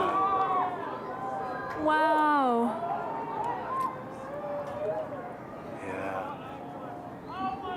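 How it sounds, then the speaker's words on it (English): Excited crowd at an annular solar eclipse cheering and screaming in the background, with rising whoops and shouts under a nearby person's exclamation. "You can hear people screaming in the background"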